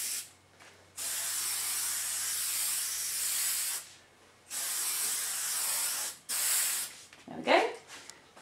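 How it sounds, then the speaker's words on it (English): 3M repositionable spray mount hisses from an aerosol can onto the back of a fabric stencil in three long, light sweeps with brief pauses between, followed by a short rattling sound. "I'm going to first prepare the back of the stencil with a repositionable spray mount."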